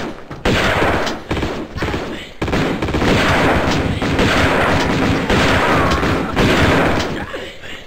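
A shotgun fires repeatedly in the Tomb Raider II Remastered video game, several loud, booming blasts spaced a second or so apart amid a continuous clatter of combat noise.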